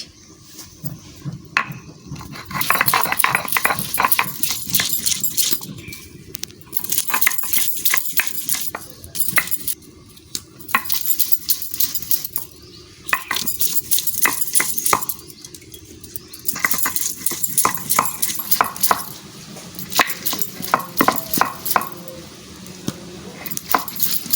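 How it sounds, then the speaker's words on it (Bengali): Ginger, garlic and onion being ground by hand for an egg curry, with repeated bursts of scraping and clattering that come and go in steady working rhythm, close by with no talking. "বাটবো আদা রসুন পেঁয়াজ"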